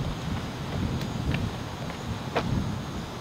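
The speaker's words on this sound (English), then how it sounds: "Windy, no rain." Wind blows outdoors after a brief storm, a low rumbling buffet against the microphone that stays steady and moderate with a few faint ticks and knocks scattered through it.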